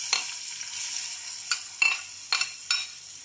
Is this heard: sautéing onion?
yes